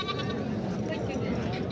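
A long-eared Makhi Cheeni goat bleats in a pen among other goats, a faint wavering call under a busy background of people talking and movement.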